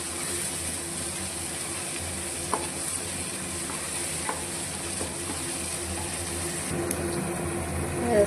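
Paste made from ground small onions sizzles steadily in a pan while being stirred for mutton biryani, a constant close frying hiss with faint scrapes of the spoon and no speech.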